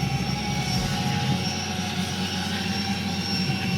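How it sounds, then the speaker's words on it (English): A delivery drone flies with a steady, continuous motor whine and broadband whoosh that holds evenly and fairly close throughout, with no voices. "So this drone's alive."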